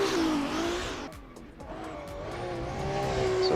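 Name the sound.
racing game car braking hard and colliding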